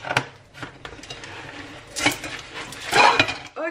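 A deep ceramic soup plate is pulled out of its packaging, giving a few close clinks and knocks with rustling scrapes in between and a louder clatter near the end.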